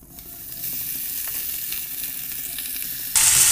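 Cooled rice for jarda pulao stirred and fried in a pan, a steady close sizzle with soft scraping, swelling to a louder, brighter hiss near the end; no talking.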